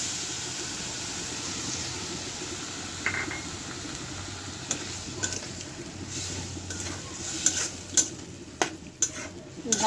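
Ground turmeric, chili and coriander with tomato fry in a pan while a utensil stirs them. A soft sizzle runs under scraping strokes and a few sharp metallic clinks toward the end.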